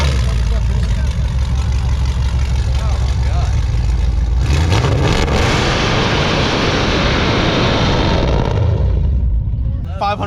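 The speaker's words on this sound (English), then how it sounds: "got true dual 3 inches on this, comes all the way back, and it is still loud" A truck engine with true dual 3-inch exhausts rumbles loudly at close range at an LS engine car show, swelling into a heavier roar midway before easing off.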